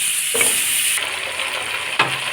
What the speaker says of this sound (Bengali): এগুলো ভেজে নিচ্ছি